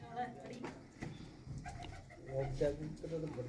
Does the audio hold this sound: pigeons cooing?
yes